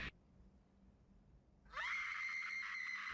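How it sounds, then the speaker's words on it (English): A woman's piercing scream from the final scene of the Twin Peaks series bursts in suddenly after a near-silent pause and holds loud and sustained to the end. "prompting Laura to recollect something scream-inducing"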